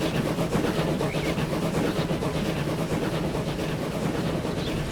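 Trains roll along rails in Transport Fever 2, a simulation game set on a New York route, with a steady, continuous rumble and clatter of wheels on track.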